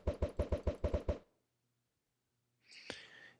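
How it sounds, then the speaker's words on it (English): Large explosions fired from a super long-range weapon in a video game: a rapid string of about eight punchy blasts in quick succession, then a quiet gap, then one more boom trailing into a hissing rumble. "fire a bunch of very large explosions over here"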